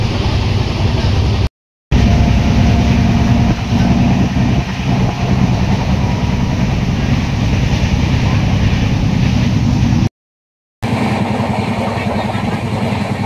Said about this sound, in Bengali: ট্রেনটা খুব গতিবেগটা খুব ভালো, ওখা এক্সপ্রেস।